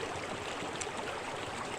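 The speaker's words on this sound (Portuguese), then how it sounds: "O som de água corrente" A small stream's running water makes a soft, steady broadband rush, continuous and fairly faint, with no voices over it.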